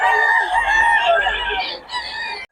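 A rooster crows loudly and close by in a long drawn-out call, with other chickens clucking and calling around it at a chicken market in Bocaue, before it cuts off abruptly.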